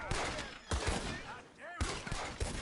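Gunfire from a Red Dead Redemption II shootout, with three loud bursts of shots separated by brief gaps, carrying ringing echoes and game ambience between them.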